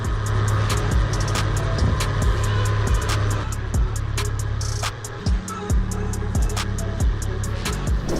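A homemade 200 kg gyroplane built by an engineer, with a 19-litre tank, runs with a close, steady engine drone cut by rapid rhythmic whooshing pulses of the spinning rotor, fairly loud and continuous.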